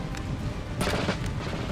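Musket volley fire in the Napoleon Total War video game during a siege, a dense rumbling crackle of distant shots with a sharper burst near the middle, under constant battle noise.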